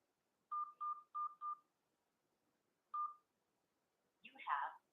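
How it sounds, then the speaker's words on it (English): A telephone keypad enters a voicemail password: four quick, evenly spaced tones, a pause, then a single tone, each a clean beep over a quiet line, followed by a short burst of speech at the end. "Please enter your password, then press pound."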